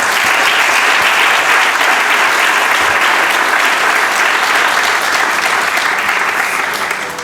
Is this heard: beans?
no